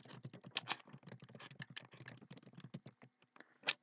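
Quick, uneven typing on a computer keyboard, close and quiet, with a steady patter of key clicks and an occasional heavier keystroke, no voices.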